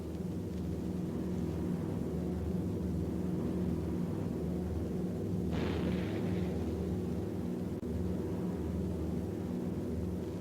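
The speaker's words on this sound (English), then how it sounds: "the enemy knows the path of your approach and walls that path with a flak barrage" WWII B-17 Flying Fortress bomber, the Memphis Belle, flying through an anti-aircraft flak barrage: a steady, dense engine drone fills the cabin, broken about midway by one sharp, loud burst of exploding flak.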